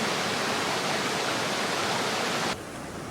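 Shallow stream water rushing around a person's legs while they stand and stretch at a hot summer campsite, a loud, dense, steady wash of flowing water that drops slightly in level near the end.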